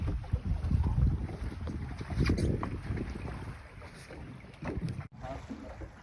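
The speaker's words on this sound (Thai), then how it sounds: "ถึงกับต้องเอาเรือตาม" A boat motors across open sea near Racha Island while chasing a hooked fish during GT casting. A steady, loud engine and hull rumble runs throughout, with gusty wind buffeting the microphone.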